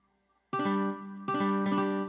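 Software playback of a strummed guitar pattern in MuseScore 4, sounding two slightly arpeggiated chord strums in a down-down-up-up-down-up pattern, clean and alone with no talk, the second strum entering about halfway through.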